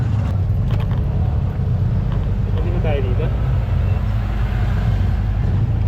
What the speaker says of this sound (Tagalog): Traffic naman.